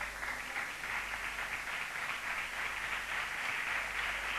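Audience at a gathering applauds as Pastor Jamshed Hidayat is called forward, a steady, dense wash of clapping that holds evenly from start to finish with no voices over it.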